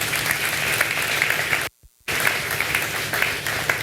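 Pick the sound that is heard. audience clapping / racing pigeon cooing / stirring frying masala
audience clapping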